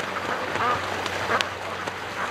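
Ducks quack in short bursts at a lake, fairly close, over a steady noisy outdoor background.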